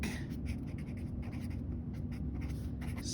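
A pen writes out an arithmetic sequence formula in a quiet room, with soft, scratchy strokes that start and stop irregularly.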